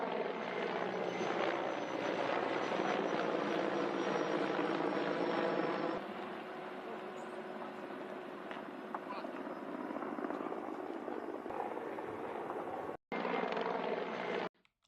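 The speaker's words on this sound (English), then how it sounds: "Polish military helicopters are flying over the village of Osini" A Polish military helicopter flies over a drone crash site near a village, its rotor and engine roar steady and loud throughout, briefly cutting out near the end.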